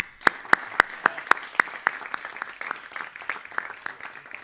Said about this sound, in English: how about another round of applause for our wonderful rhythm section